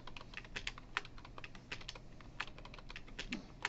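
Code is typed on a computer keyboard in a lecture setting, giving quick, irregular key clicks and taps at close range over a faint background, with no speech.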